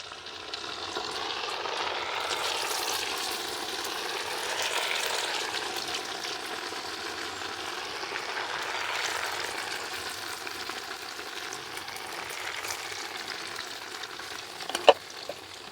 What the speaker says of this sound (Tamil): எண்ணெய் நல்லா கொதிச்சிட்டுது நாங்கள் தட்டி வச்சிருக்கிற வடையை போட